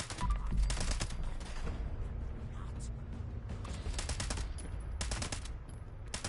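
Gunfire in Fallout 76 rattles in fast, loud bursts at the start and again near the end, with shorter volleys between, all close and sharp over a steady background rumble.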